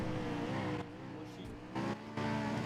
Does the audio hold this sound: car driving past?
yes